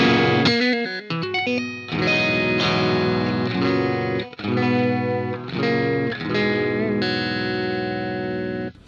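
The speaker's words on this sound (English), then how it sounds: "enough grit and pull that you can kind of hear the distortion a little bit" An electric guitar with light crunchy distortion plays chords and ringing notes, the gritty overdrive loud and continuous with a few brief gaps.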